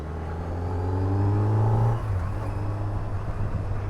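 A Kawasaki Z900 motorcycle, ridden with the quickshifter off and power set low, pulls hard. The engine note climbs steadily and loudly up close, drops at a gear change, then rumbles on under wind, with no talk.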